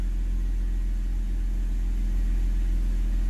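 A BMW N52 car engine idles after its VANOS non-return valves were cleaned, giving a low, steady rumble that holds even and unbroken, close by with no speech.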